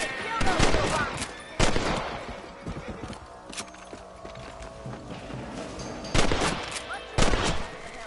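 Rifle shots while hunting rabbits from horseback in Red Dead Redemption 2, several sharp loud cracks spaced a few seconds apart over trotting hoofbeats and ambient sound.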